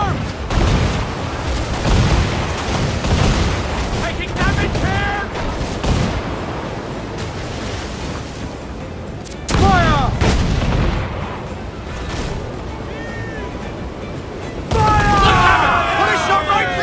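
Naval cannon broadsides from Assassin's Creed 4 Black Flag ship combat: loud repeated booming volleys in several bursts, with shouted crew voices over the gunfire and battle noise.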